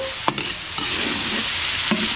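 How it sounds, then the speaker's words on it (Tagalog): Garlic, onion and ginger sizzle in a pan, with a steady frying hiss broken by a few sharp clanks of a spatula stirring against the metal. "gisang-gisa yung ating bawang sibuyas bago natin lagay yung puset"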